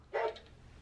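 A toy dog gives a single short, close bark lasting a fraction of a second, then quiet room tone follows.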